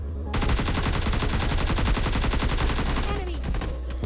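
Rapid automatic gunfire from several players fighting at close range in PUBG Mobile Lite, a dense, loud stream of shots lasting about three seconds before breaking off into scattered echoes.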